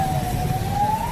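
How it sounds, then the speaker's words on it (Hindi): An ambulance caught in heavy traffic wails with a single drawn-out siren tone that slowly rises in pitch, heard from a moderate distance over a low road rumble. "एम्बुलेंस आ रही है और उसका सायरन भी बज रहा है"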